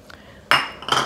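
Ingredients such as cut-up spareribs and black beans going into a mixing bowl, two quick clattering clinks against the bowl, the second a little softer.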